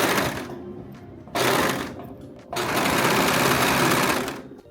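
Heavy duty Singer sewing machine running a stay stitch in bursts, a steady close whirring hum that pauses briefly twice before resuming, with no talk.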